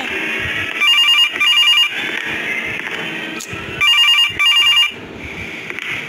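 A telephone rings in a horror video game set in a control room, two paired bursts of electronic ringing near the start and two more later, loud over a steady droning ambience with no talk.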